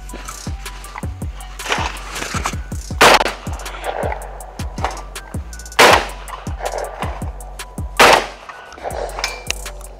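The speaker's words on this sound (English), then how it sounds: "let's just see how the Girsan shoots." A Girsan MC312 Sport semi-automatic shotgun fires a string of loud, sharp reports at an outdoor range, several shots in quick succession with pauses, each ending in a short echo.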